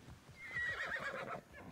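A horse in the video game Immortals Fenyx Rising whinnies once in a rising, wavering call over a soft background, close and fairly clear, with faint hoof-like thumps beneath.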